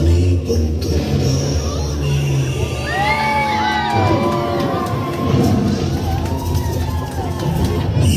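A crowd cheers, whoops and shouts continuously at a 10th Kannada Rajyotsava celebration, with high excited voices rising over a dense, loud hubbub.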